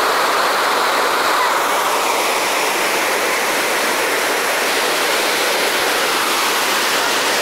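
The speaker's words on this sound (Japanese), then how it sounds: "橋の下までもう水が迫っております。 濁流です。" Flooded Nara River in a muddy torrent rushing just beneath a bridge, a loud, dense, steady roar of churning water filling the whole scene without pause.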